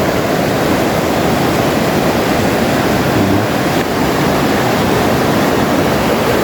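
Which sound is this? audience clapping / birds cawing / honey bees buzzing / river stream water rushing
river stream water rushing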